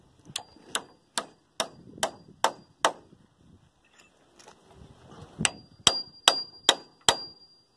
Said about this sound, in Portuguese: Já coloco um prego aqui para travar.